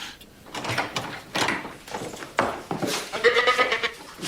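A female goat bleats several times in a wavering, nasal run, fairly close and loud, with scuffling and a door-like creak mixed in around the calls.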